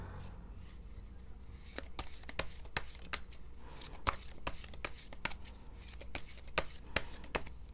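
A tarot deck is shuffled and cards are drawn by hand, giving soft riffling and scattered crisp card snaps that come close and fairly quiet over a low steady background hum.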